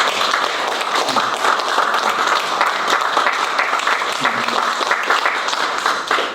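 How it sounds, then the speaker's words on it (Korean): Dense, sustained applause from a crowd at a Korean political rally launching a national movement to defend liberal democracy, steady clapping filling the whole stretch with no talk over it. "감사의 박수"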